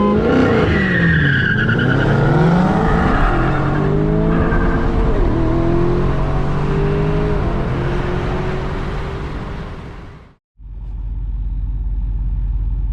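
A Duramax diesel truck launches hard in a street dig, engine roaring with rising and falling whines as tires squeal loudly, then the noise cuts abruptly before a low rumble returns, no talking.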